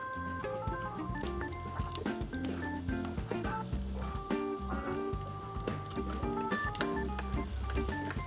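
Garlic fries in a pan with a soft, steady sizzle and crackle under a background of tonal music, faint and continuous throughout.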